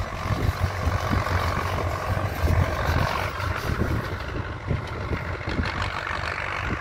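A Valmet 880 tractor pulls a 4-row Tatu planter while planting corn, its engine holding a steady, loud, continuous rumble throughout with no talk.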